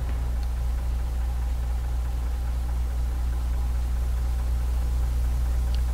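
A truck engine in the SnowRunner off-road driving game, just repaired, runs at a steady idle with a continuous low, even rumble throughout, near and unchanging, and no talk over it.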